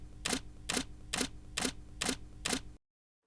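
A camera shutter clicks six times in an even rhythm while self portrait pictures are being shot, each click sharp and close, then silence.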